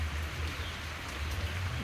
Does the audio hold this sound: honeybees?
no